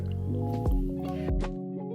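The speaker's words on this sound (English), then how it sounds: "Then add the broth" Broth is stirred into a lightly browned flour roux in a pan for turkey gravy, giving two soft, wet squelching swirls over a steady tonal background.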